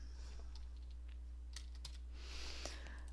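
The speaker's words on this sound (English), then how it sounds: "And let's type it in." Faint typing on a computer keyboard, a scattering of soft irregular clicks at low level over a quiet steady background hum.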